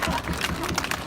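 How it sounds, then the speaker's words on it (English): A crowd gathered outdoors for a Comfort Women memorial statue anniversary breaks into broad, dense applause, loud and continuous across the short moment. "Please give yourselves a round of applause."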